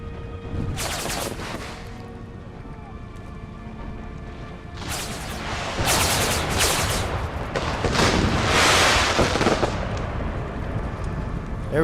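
Cannon volleys in the Empire: Total War game, with the Brothers vs. Brothers mod, boom and crackle in ragged bursts, some close and loud, others rolling farther off, building into a dense barrage toward the end.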